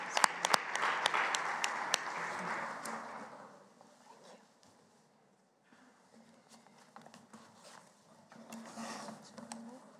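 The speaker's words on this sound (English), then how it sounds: "Please, a round of applause." Audience applause in a session hall of the 148th IPU Assembly in Geneva, dense clapping that fades out halfway through, followed by a quieter stretch and then a second, softer burst of clapping.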